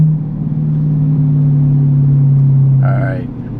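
A 2020 Chevy C8 Corvette's engine drones loud and close in a steady, low, throaty tone that swells, then briefly eases near the end.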